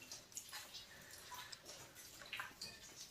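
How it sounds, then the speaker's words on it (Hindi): Water drips from the ceiling of Mahendra Cave near Pokhara, Nepal, making faint, scattered taps and splashes over a quiet, hissy cave background. "ये देखिए पानी टपक रहा है ऊपर से"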